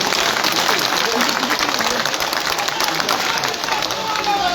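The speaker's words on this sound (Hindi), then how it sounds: "एक बार नफरत करने वालों के लिए ताली बजाइए।" Steady applause rises from a crowd at an election campaign rally in Jamshedpur, dense and sustained, with voices talking over the clapping.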